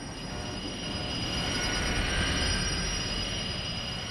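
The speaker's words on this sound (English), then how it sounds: "the train to Three Bridges came to a sudden halt" A train rumbles along the rails with a steady, loud broadband roar and a thin high squeal from the wheels as it brakes toward a halt.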